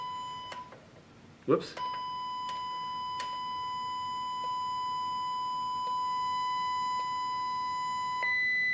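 A steady pure electronic test tone starting at 1,000 hertz sounds in a physics lecture, holding level for several seconds and then stepping upward, with a brief spoken exclamation and a clunk near the start.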